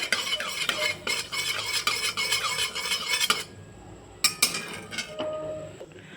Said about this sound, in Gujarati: હવે આ બધા આપણે ખડા મસાલાને હલાવી લેશું તેલમાં